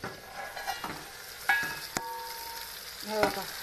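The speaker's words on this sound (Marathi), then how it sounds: "मस्त हिरव्या मिरच्या आता अजून तळल्यावर तुम्हाला दाखवते मी" Green chillies fry in a pan, giving a soft sizzle with scattered clinks and scraping stir sounds, faint and close, with no talking.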